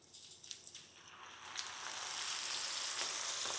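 Dalmoth, a crispy lentil snack, fries in hot oil in a kadhai, the soft bubbling swelling into a steady, louder sizzle about halfway through and holding there.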